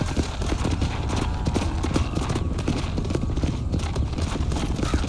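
Horse hooves clip-clop continuously in the Western video game Red Dead Redemption, a dense steady gallop-like rhythm, loud and close, with a faint whinny possible in the mix.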